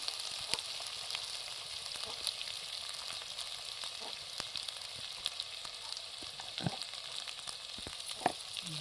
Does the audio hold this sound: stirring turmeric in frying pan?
yes